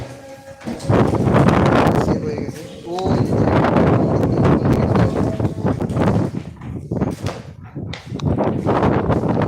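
Strong storm wind gusts roar against a flat during a violent storm, loud and continuous with buffeting, while people talk over it.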